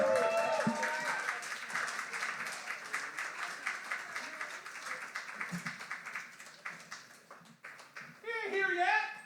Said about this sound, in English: Please give a huge round of applause to Stephen M. Wuebker.